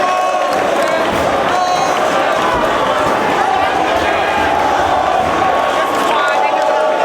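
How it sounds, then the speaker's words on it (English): A pro wrestling arena crowd reacts loudly after a 60-minute time-limit draw is called, a dense, continuous wall of shouting, jeering and chanting that stays close and loud throughout. "Oh, this crowd hates it"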